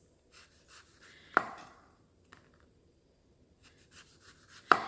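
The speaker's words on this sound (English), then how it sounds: "I'm going to start with my grapefruit and I'm just going to cut it into slices." A knife slicing through a grapefruit makes a few sharp, separate cuts with brief rasping strokes between them, close and fairly quiet with no talking.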